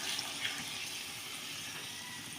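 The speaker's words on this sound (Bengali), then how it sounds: "এবার আমি দিয়ে দেব পরিমাণ মতো জল।" Water pours steadily into a pot of potato curry while cooking, a soft continuous splashing stream heard up close and alone.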